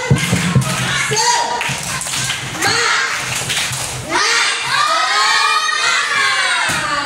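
Schoolchildren in a fourth-grade class clap a chanted rhythmic pattern together at close range, loud and lively, with their voices and an adult's voice mixed over the claps.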